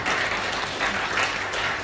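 A crowd claps together in a dense, steady burst of applause that holds for the whole moment.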